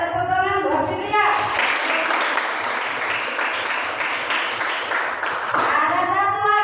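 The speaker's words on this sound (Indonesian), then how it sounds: "Dan tepuk tangan buat Fitria." A classroom audience claps for a student named Fitria. The applause is loud, dense and sustained, with a voice heard briefly at the start and again at the end.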